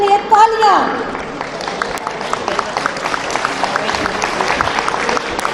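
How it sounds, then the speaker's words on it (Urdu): Audience applause at a lawyers' rally, a dense crowd clapping steadily after a brief voice at the start, mid-distance and continuous throughout. "ان کے لیے تالیاں."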